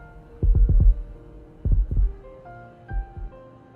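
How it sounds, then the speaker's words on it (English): Heartbeats from a heartbeat-detecting device in the video game Love and Deepspace: three clusters of deep, soft thumps, each a quick double or triple beat, loud and close over a low sustained hum with faint tones. "Now we're hearing our heartbeats."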